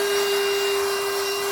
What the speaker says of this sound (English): the vacuum cleaner just glides over it and manages to absorb almost everything